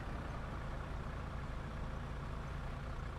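Bus engine idling in The Bus, a PC driving game set on a Berlin sightseeing route: a low, steady rumble held at an even level, quiet and unbroken, with no voices over it.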